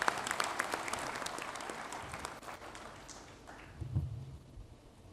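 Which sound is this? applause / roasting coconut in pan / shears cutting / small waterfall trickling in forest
applause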